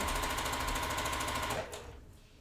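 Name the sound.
sewing machine sewing down a quilt seam's raw edge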